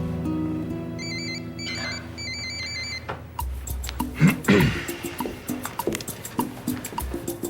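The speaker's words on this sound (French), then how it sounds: "Même si ton téléphone sonne de temps en temps." A telephone rings with repeated electronic trilling bursts for about three seconds, fairly loud, followed by clattering handling sounds and movement as it is picked up.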